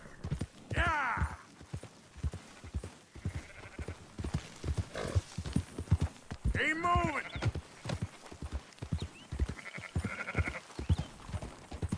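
In Red Dead Redemption 2, sheep bleat loudly in several bursts over a constant, rhythmic clip-clop of horse hooves, close and busy throughout.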